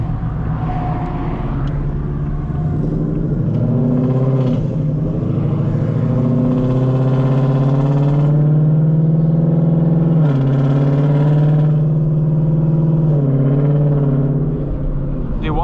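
Whipple-supercharged 900HP S650 Mustang GT with headers, engine and exhaust droning steadily from inside the car while cruising, with rising and falling revs, a slightly raspy low-rpm tone and occasional throttle swells.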